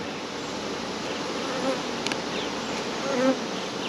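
Honey bees buzz on a hive frame during an inspection, a steady, dense hum close by with no talking.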